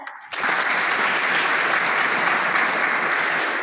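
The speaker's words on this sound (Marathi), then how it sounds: "त्या आयोजकांसाठी एकदा जोरदार टाळ्या." A crowd bursts into loud, sustained applause that continues steadily to the end.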